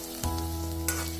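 Chopped ginger, garlic and green chilli sizzle in hot sesame oil with popped mustard seeds, a steady close frying hiss with a couple of brief stirring bursts; no talking.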